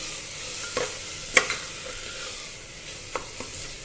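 Whole masoor lentils being stirred into cooked masala in a pan, with steady scraping and gentle sizzling and a few sharper spoon knocks against the metal, close and without talk.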